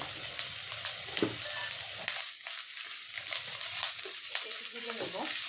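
Turmeric and coriander powder frying in a pan for a sarpunti fish curry, a soft continuous sizzle with occasional stirring scrapes, close and moderately loud, no talk.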